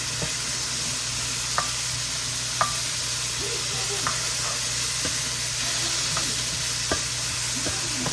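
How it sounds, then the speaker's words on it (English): Brussels sprouts sizzle steadily in a skillet, a dense even hiss with occasional light taps and clicks of a utensil against the pan, with no talking. "I can push those Brussels sprouts right up on the side and they'll continue to cook"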